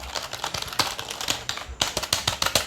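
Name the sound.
pressing keys on a regular office computer keyboard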